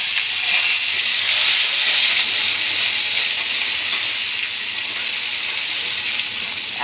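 Papaya pieces hitting hot oil in a pan, a loud, dense continuous sizzle and hiss that holds steady throughout, close up and with no voices.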